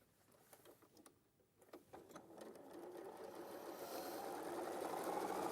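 A sewing machine stitches a seam, starting with a few slow clicks before building into a steady, continuous whir that grows louder and more even, heard close with no talking.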